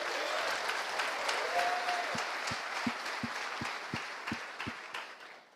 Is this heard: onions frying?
no